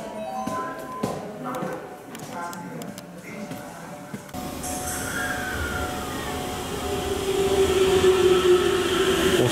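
Aichi Loop Line train running along an elevated track, heard from on board as a steady rolling rumble with a high wheel whine that builds louder toward the end, after a brief stretch of busier station noise.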